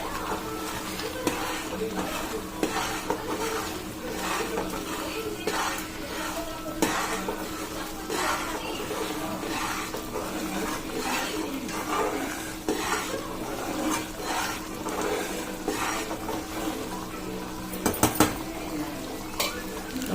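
Stuffed eggplant curry simmering and bubbling in a pan while a spoon stirs it, a steady close sizzle with scraping and clinks of utensil on metal throughout, a few sharper knocks near the end.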